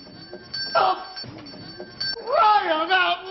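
A bell rings in short bright dings against a comedic TV sketch scene, with people talking over and between the rings.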